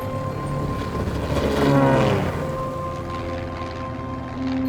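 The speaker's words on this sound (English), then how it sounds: "This is when we need an airplane." A propeller airplane engine drones steadily in flight over a desolate part of Kenya, a continuous low hum with harmonic tones that swells slightly midway and stays loud and close throughout, with no talking.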